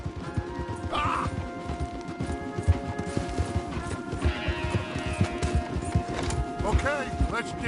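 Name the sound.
horses ridden in Red Dead Redemption 2 video game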